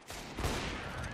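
Rapid bursts of Counter-Strike: Global Offensive gunfire crackle continuously, with a louder blast near the start, dense and steady throughout.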